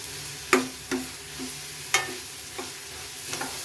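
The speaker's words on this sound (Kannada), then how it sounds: "ಅದು ಈ ಥರ ಚೆನ್ನಾಗಿ ಎಣ್ಣೆ ಬಿಡುವಂಗೆ ಇದರಲ್ಲೇ ಬೇಯಿಸ್ಕೋಬೇಕು ಈಗ ನಾವು" Green paneer masala cooking in oil in a pan, with a few distinct stirring scrapes and soft sizzles at irregular intervals over a quiet background, no talking.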